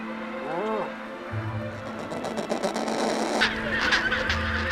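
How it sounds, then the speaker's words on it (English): Penguins call in honking, goose-like bursts at a crowded nesting colony on the Antarctic Peninsula, with layered cries overlapping against a noisy background, fairly close and moderately loud. "There are especially a lot of penguins here."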